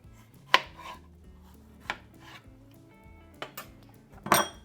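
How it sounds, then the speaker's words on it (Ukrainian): A few sharp knife cuts through peaches knocking on a cutting board, spaced irregularly with quiet pauses between, close by and with no talking. "Приблизно я нарізаю ось такою товщиною."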